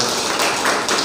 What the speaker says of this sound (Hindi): किशोर सर के लिए एक बार जोरदार ताली हो जाए।